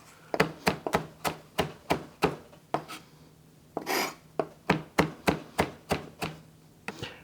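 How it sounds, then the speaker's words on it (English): Knife chopping parsley and cilantro on a cutting board in a home kitchen, a brisk series of sharp, close taps in an even rhythm with one short pause midway, no talk. "need to chop our parsley and cilantro. Chop them very well, so very small pieces."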